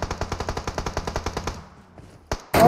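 Rapid automatic gunfire in PUBG Mobile, a steady burst of about fifteen evenly spaced loud shots, then a brief pause, a single sharp report and a louder burst of noise at the end.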